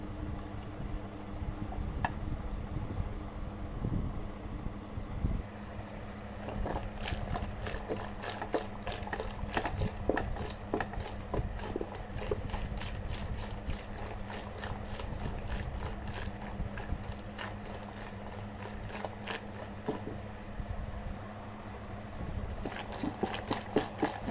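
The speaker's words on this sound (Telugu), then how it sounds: "ఇప్పుడు దీన్ని మనం మజ్జిగ కవ్వంతో చిలుకుదాం" Butter being churned in a bowl with a traditional wooden buttermilk churner gives a long run of rapid, close rhythmic clicking and knocking, continuous and fairly quiet, with no talk.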